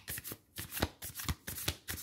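Tarot-style spirit guide cards being shuffled by hand, a close, steady run of riffling flutters repeating in quick bursts about every quarter second, with no talk.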